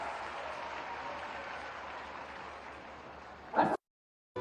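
An audience at a large job and loan fair in Moradabad applauds to welcome the chief minister with broad, sustained clapping that fades slightly, then a brief loud burst before a cut.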